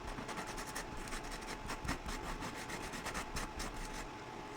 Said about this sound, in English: I'm going to give it a little sanding. I have my little sanding block here